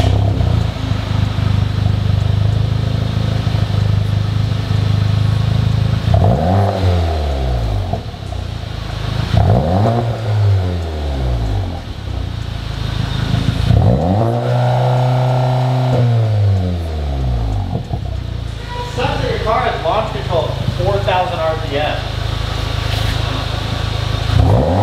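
A Volkswagen GTI with a muffler-delete exhaust revs several times, loud and close. Each blip climbs and falls over a steady raspy idle, and one longer rev is held.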